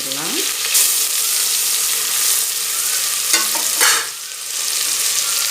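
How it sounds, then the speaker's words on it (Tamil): Mustard seeds, dried chili, crushed onion and garlic hit hot oil for a spicy Tamil rasam, making a loud continuous sizzle close by, broken by a few spatula scrapes and stirring clatters, with no speech. "எண்ணெய் சூடாகிடுச்சுங்க. கடுகு சேர்த்துக்கிடலாம். மிளகாய் சேர்த்துடலாம். நசுக்கிய வெங்காயம்,"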